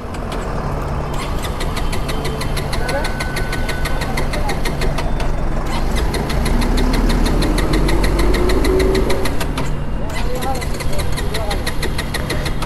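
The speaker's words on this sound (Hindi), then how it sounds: "आपको मैं दिखा देता हूँ कि ये बाइक चालू एकदम भी नहीं हो रहा है।" A 2023 Bajaj Pulsar 220F motorcycle engine turns over repeatedly with a steady mechanical churn, cranking without catching, loud and close throughout.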